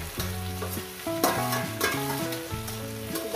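Eggplant and tomato fry together in a hot pan with a steady sizzle, stirred close up with a spatula that gives a few sharp scrapes, while music plays over it and no one speaks.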